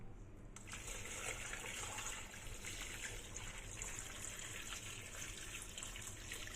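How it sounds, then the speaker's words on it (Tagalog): Water poured from a container into a cooking pot holding lotus and sticky rice for a dessert, a steady close splashing and gushing that runs continuously. "So, ito na yung tubig, maglalagay na tayo."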